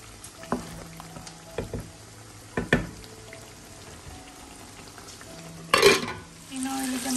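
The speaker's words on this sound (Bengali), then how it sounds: "আমি পেঁয়াজ রে কষাইলাম মাংস একটু পরে পরে লাড়িয়ে সারিয়ে দিতে হয়" Onions and meat frying and being stirred in a pan, with a soft steady sizzle broken by several scraping stir clatters and a louder burst near the end.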